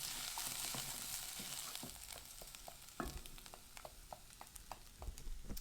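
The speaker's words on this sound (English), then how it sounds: "Okay, I'm going to give that a mix" Chickpeas being stirred into cracked wheat pilaf in a pan: a soft sizzle underneath scattered scraping and clicking of a utensil against the pan, fairly quiet, with a few sharper knocks.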